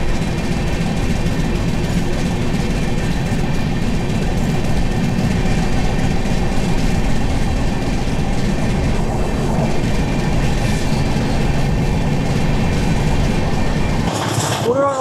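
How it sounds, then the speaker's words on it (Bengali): Humsafar Express rolling through Dalkhola station without stopping, with a loud, sustained rumble and rhythmic wheel clatter heard close up from on board, steady for the whole stretch until a brief change near the end. "আমাদের ট্রেন পার করছে ডালখোলা স্টেশন"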